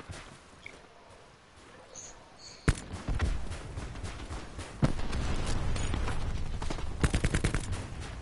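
Flashbang grenade in Call of Duty Black Ops 4 going off with a sharp crack, followed by a loud burst and then heavy ongoing gunfire and impacts.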